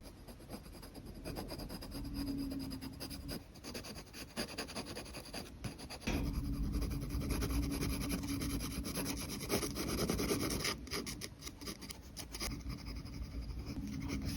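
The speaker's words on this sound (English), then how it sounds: "Now enjoy some nice drawing ASMR." Pencil drawing and shading on paper, a steady close rubbing and scratching texture with continuous strokes, quiet and alone with no talk.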